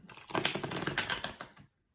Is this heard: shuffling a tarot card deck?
yes